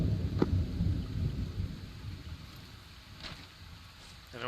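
Rain in the military shooter ARMA 3 hisses steadily in the background, with low rumbling and a few brief clicks, while people talk faintly over it.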